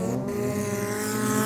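The Q7 race car, getting squirrely during an oval race, roars close and loud in a steady, dense engine drone with a hint of tire squeal.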